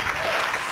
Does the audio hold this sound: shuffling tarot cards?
no